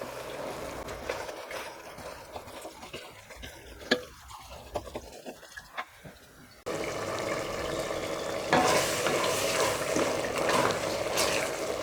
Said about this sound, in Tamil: குடலை போட்டுட்டு இதை நல்லா சுருண்டு வர்ற வரைக்கும் வதக்கணும்.